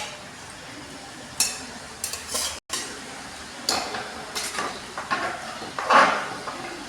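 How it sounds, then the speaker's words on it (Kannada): Boiled and fried eggs go into a pot of egg biryani, with several scattered clinks and scrapes of a spoon against the pot and soft stirring sounds, fairly close and moderate in loudness. "ಬೇಯಿಸಿ ಫ್ರೈ ಮಾಡಿಟ್ಕೊಂಡಿದ್ವಲ್ಲ ಈ ಮೊಟ್ಟೆನ ಇವಾಗ ನಾನು ಸೇರಿಸ್ತಾ ಇದ್ದೀನಿ ನೋಡಿ"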